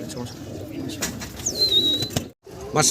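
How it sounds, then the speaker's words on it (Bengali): Pigeons coo softly in the background at a pigeon farm while a person talks over them, with a brief high whistle-like tone midway and a short silent gap. "দর্শক ভিডিও স্ক্রিনে আপনারা চমৎকার একজোড়া চরেরা কবুতর দেখতে পারতেছেন"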